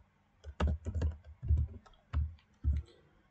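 Code is typed on a computer keyboard in a quiet room, with about six distinct bursts of clicking keystrokes spaced irregularly and heard up close with no talk.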